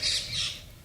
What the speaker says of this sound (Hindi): चिड़ियों के चहचहाने की आवाज से पता चला कि सवेरा हो चुका है।